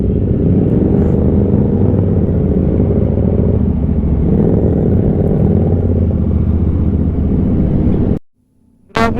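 A big bike motorcycle rides single file through slow road traffic on a flooded Manila–Baguio–La Union route, giving a loud, steady engine rumble and road roar that cuts out briefly near the end.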